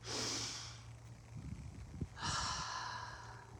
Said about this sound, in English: allow yourself to feel good right now by just taking a deep breath